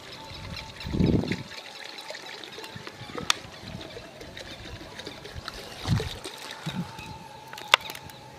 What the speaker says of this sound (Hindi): अब जो है हम फटाफट इसके अंदर हमारी कढ़ाई के अंदर ये डीजल डाल देते हैं।